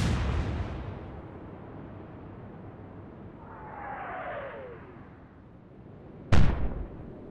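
A destroyer fires star shells in the Atlantic Fleet naval video game: a booming gun blast fades into a long rumble, a descending whistle passes through the middle, then a second sharp, loud report cracks out near the end.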